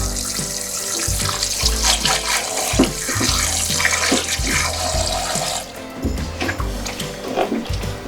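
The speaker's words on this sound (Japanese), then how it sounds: "今水洗いで汚れを取っているところです" Raw oysters being washed by hand under a running tap, with steady water flow splashing into a sink and some clattering of shells throughout.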